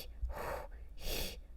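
A human voice imitates a monster's heavy panting, two long breathy rasps close to the ear, each lasting about half a second with a short pause between them, with no talk alongside.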